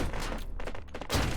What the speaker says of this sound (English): Some of the explosions last for a really long time. They leave this like artifacting sound around.